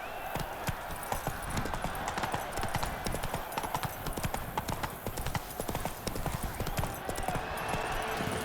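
Roach the horse's hooves clip-clop steadily across ground in The Witcher 3, a continuous rhythmic trot with a faint voice and ambient game sound underneath.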